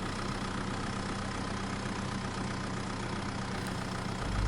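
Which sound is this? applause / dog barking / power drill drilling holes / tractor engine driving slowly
tractor engine driving slowly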